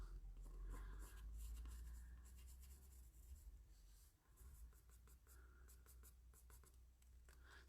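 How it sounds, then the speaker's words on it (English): A soft B-grade graphite pencil scratches rapid short strokes on paper to render hair, a faint close-up scratching with quick bursts and brief pauses. "So I'm just doing much smaller lines with the pencil now."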